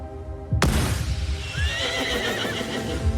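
A horse gives a loud, close whinny that starts abruptly and trails into a long, wavering neigh over steady background noise.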